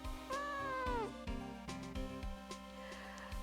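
A pet cat called Shop Cat gives one short, bright squeaky meow near the start, close and clear, followed by quieter background music and clicks.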